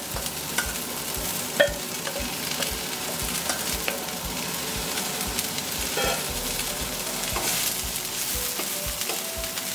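Spinach wilts in a pan with softened onion for homemade potato croquettes, a continuous close sizzle broken by spoon scrapes and stirring knocks and one sharper clank, with no speech.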